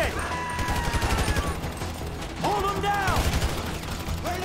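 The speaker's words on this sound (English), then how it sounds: "So I guess we're shooting our way out of here!" Rapid bursts of automatic gunfire crackle through a shootout in Grand Theft Auto V, rattling in dense volleys alongside mechanical clatter and a few whistling tones, with voices talking over the fight.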